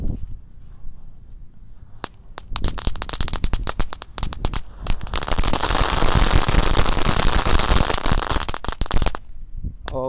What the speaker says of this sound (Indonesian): Dan penutupnya ini ada mercon pretekan